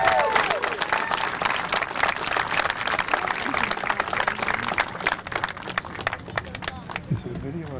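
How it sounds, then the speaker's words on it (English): Applause for students at a school ceremony at Valley Road School: a crowd claps continuously and fairly loudly for several seconds, with murmuring voices and some talk mixed into the clapping. "do you want to give them one more round of applause while we're all together out here?"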